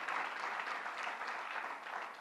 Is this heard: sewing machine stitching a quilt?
no